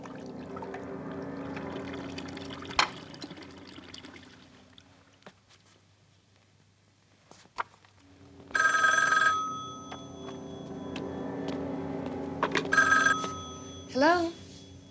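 An old home telephone bell in a quiet 1980-era apartment rings in two long, clear bursts, preceded by faint room noise and a few soft knocks.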